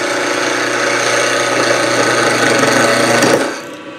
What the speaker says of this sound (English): And parting tool to make a small tenon